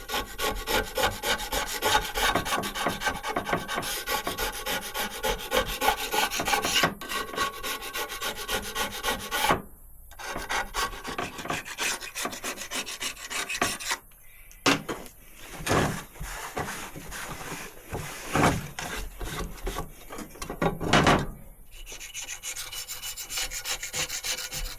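Rough, rasping scrape as an old gasket is scraped off the engine of a Mk1 Ford Capri 3000E, with repeated strokes and short pauses between bursts, close and fairly loud.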